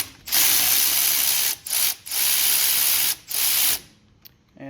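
A ratchet with a T40 bit turns the starter bolt on a John Deere riding mower with a Briggs & Stratton engine, giving several loud, fast rasping bursts separated by short pauses, with no talk.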